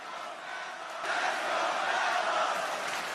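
Wrestling arena crowd at a televised WWE SmackDown United States title match in Austin, a broad sustained roar that swells after the first second and stays loud and steady.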